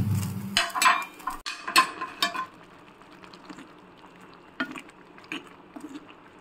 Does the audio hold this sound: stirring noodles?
yes